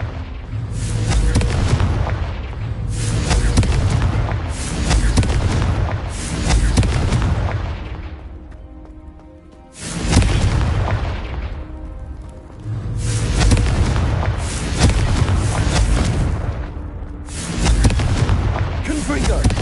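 Repeated Confringo fire-spell explosions in Hogwarts Legacy on PS5, blowing up vases; about eight heavy booming blasts in a steady rhythm, each with a rumbling tail, loud and close.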